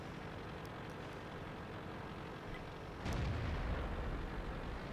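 A Hellcat tank destroyer fires in World of Tanks: a single deep cannon boom about three seconds in, rising over a constant rumbling engine and battle backdrop.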